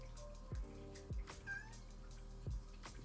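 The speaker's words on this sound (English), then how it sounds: "Can you hear her meows?" A cat meows indoors in short calls, close and fairly soft over a low steady hum, with a faint dripping tap in the background.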